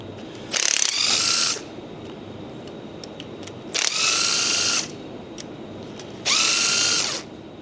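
Three short bursts of a power impact wrench spinning out bolts on a tractor, each a loud, high whirring run of about a second, separated by quiet pauses, close by with no talking.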